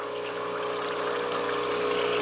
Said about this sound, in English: as you can hear the different pump noise